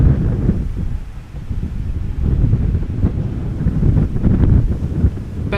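Gusts of wind buffet the microphone outdoors at Amsterdam Schiphol Airport, producing a loud, continuous low rumble that rises and falls across the whole stretch with no talking.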